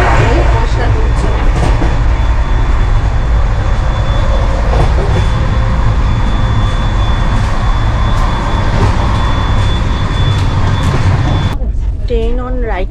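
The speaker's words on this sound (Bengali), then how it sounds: "তো এখনো কিন্তু ট্রেন একদম রাইট টাইমেই কিন্তু যাচ্ছে" The Sealdah–New Delhi Rajdhani Express rolls along, heard from inside a 3rd AC coach as a steady low rumble and rattle. A voice briefly comes in at the very end.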